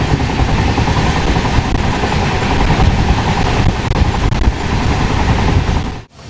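A passenger train from Kolkata toward Maithon running at high speed, heard from inside as a loud, steady roar with rumbling and faint rhythmic clatter that continues without talk until it cuts off abruptly at the end.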